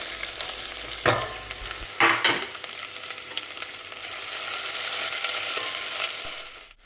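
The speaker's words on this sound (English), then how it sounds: "we're going to pop our chilies in as well, and you're going to lightly fry them" Chilies frying lightly in a pan with sliced onions, a close steady sizzle. A couple of sharp knocks come as ingredients drop in or get stirred, then the hiss swells brighter and fuller before cutting off abruptly.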